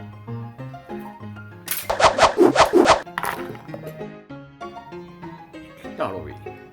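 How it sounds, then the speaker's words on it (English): A knife chops an onion for a vegetable paella, with a quick run of sharp, close thuds on a board over background music. "I'm going to start with chopping the onion."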